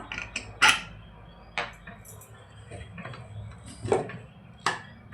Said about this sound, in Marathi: आता आपण झाकण उघडूया।